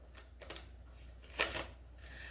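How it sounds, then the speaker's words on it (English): A deck of playing cards being shuffled in brief riffling bursts, with a few short rustling flicks and a louder flurry near the middle, close and quiet against a low background hum. "I'm just going to shuffle"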